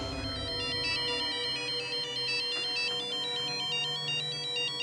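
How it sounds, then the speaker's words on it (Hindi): A telephone rings with a repeating electronic ringtone, steady and fairly loud, with no voices over it. "अरे, न्यूज़पेपर से फोन। इतनी जल्दी?"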